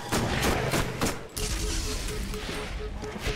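Repeated gunshots in Borderlands, a string of punchy booming shots at a steady, measured fire rate, each with a heavy low thump, with a voice occasionally under the firing.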